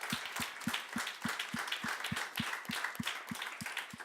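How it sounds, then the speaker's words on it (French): Audience applause at a #MaVoixCompte launch event, heard as a quiet, fairly regular run of claps roughly three per second, soft and somewhat distant, with no talking. "On t'applaudit également."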